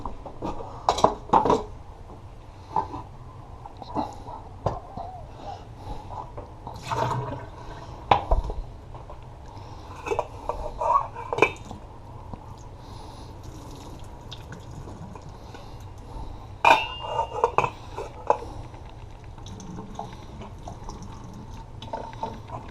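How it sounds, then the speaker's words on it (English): Water is poured off a pot of ramen noodles in a kitchen, with intermittent splashes, drips and clanks of the metal pot and utensils spread over a quiet background. "Before I do that, I'm going to take the water out."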